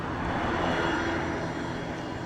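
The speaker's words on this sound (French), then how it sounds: "On va faire un tour en hélico." A helicopter flying on a sightseeing tour gives a steady, loud, broadband engine and rotor drone that holds evenly throughout, with no voices.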